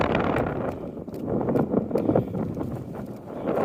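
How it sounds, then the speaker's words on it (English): Steady wind buffeting the microphone, a continuous low rumble with gusty swells, loud and close, no voices. "It is windy here"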